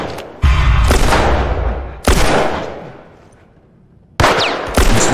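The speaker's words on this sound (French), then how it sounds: "Avec tous ces coups de feu" Gunfire in the video game The Last of Us Part 1: several loud, sharp shots, each with a boomy tail that fades away, spaced irregularly over a few seconds, with no talking.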